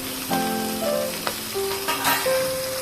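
Three medium quartered onions sizzle in hot oil in a pot while a spoon stirs them, with short scraping clatters over steady frying, close and fairly loud.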